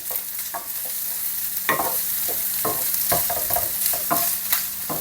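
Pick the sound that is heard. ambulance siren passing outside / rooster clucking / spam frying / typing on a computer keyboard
spam frying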